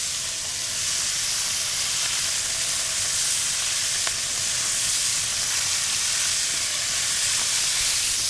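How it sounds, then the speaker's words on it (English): Pork shoulder sizzles steadily as it sears in a hot pan, a constant crackling hiss with faint pops throughout and no talking. "You wanna hear that great sizzle?"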